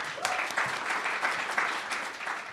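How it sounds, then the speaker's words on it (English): Brief, even audience applause rises in a hall during a poetry recitation final, steady and fairly close for a couple of seconds. "Let's give him a round of applause."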